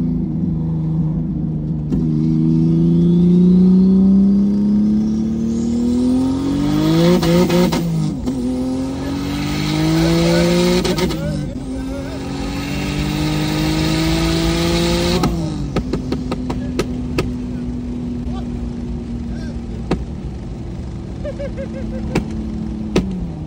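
A big-turbo Nissan Altima SE-R accelerates hard through several gears, its engine note climbing and dropping at each shift, loud and close, with a steady drone and scattered clicks trailing off afterward.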